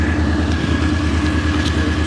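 A Volkswagen Beetle race car's engine at the start of a race, holding a steady, loud, unbroken drone with a low rumble and no voices.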